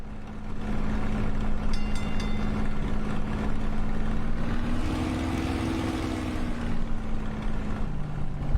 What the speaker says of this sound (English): I'm going to crank up the engine just so you guys can hear it.